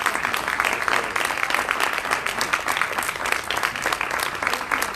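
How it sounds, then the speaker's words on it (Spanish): Loud, dense audience applause at a live music recital and storytelling event fills the whole five seconds, a constant wash of many hands clapping with no voices over it. "un aplauso grande para ellos"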